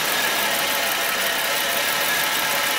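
A steady, rough GM vehicle engine running close by, chugging while a vacuum is pulled in the fuel tank during an EVAP leak check, a continuous loud rumble with a slightly uneven, labored chug and no pauses.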